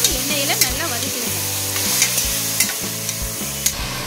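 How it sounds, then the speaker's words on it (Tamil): Potatoes, chillies and coriander sauté in oil in a cooker, sizzling steadily up close while a spoon stirs and scrapes the pan in a regular rhythm. "எல்லாத்தையும் எண்ணெயில் நல்லா வதக்கிடுங்க."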